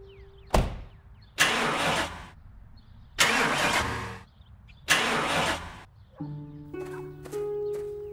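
A cartoon truck engine cranks and fails to start in four loud, separate bursts of sputtering churn with short silences between, followed by a lighter engine putter near the end.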